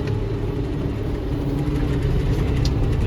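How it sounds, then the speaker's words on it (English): Tractor pulling a 12.5 foot bat wing brush hog through invasive autumn olive on farmland, a loud steady engine drone with dense low rumble and mower noise, continuous and close. "That tractor, the brush hog's doing a good job"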